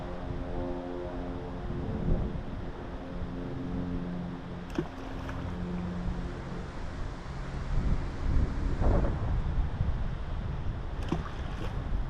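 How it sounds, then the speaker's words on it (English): A steady, distant engine drone of a passing airplane over wind rumble and soft water noise on Alaska's Kenai River, with no voices. "It's like there's an airplane"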